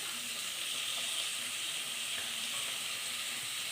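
Beans, onion, carrot and tomato fry in a pan for pulao, giving a steady, even sizzle and hiss with no break and no talking.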